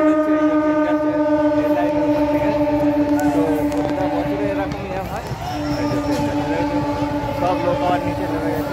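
A train runs along a railway line beside a field where horses are racing, giving a loud, steady rumble with a sustained droning hum that dips briefly midway, with voices in the background.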